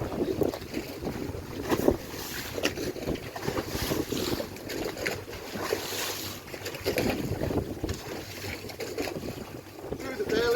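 Wake waves from a passing ferry washing and slapping against a moored boat at a quay, continuous sloshing under gusty wind noise on the microphone.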